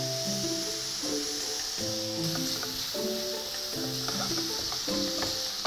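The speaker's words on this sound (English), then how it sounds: "stir that around until your ground lamb is actually all cooked through" Ground lamb sizzles in a hot copper pan while being stirred, a steady close frying hiss punctuated by repeated scraping strokes and faint tonal clinks from the spoon, no talk.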